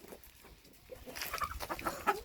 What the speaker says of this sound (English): There's the chicken.